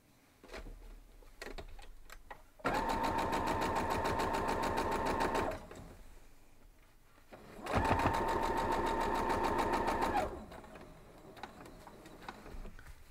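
A sewing machine stitches quilt block pieces in two steady, rapid bursts of about three seconds each, close and loud, with quieter handling sounds between and around them.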